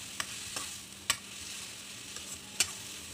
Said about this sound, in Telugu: salt onions వేగడానికి సరిపోయేంతండి